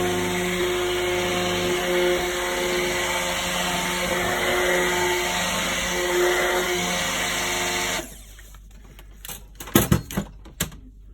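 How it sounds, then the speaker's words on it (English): A stick blender whirs steadily through spearmint and peppermint soap batter for about eight seconds, loud and close, then cuts off, followed by a few clattering knocks against the container. "I should call it a stick blender, not a whisk"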